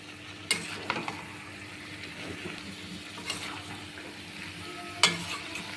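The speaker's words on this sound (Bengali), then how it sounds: "গ্রেভির সাথে সবজিটাকে ভালো করে মিশিয়ে নিব।" Fried mixed vegetables being stirred into simmering gravy in a pan, a low bubbling sizzle with a few sharp scrapes and clinks of the spoon, close and steady.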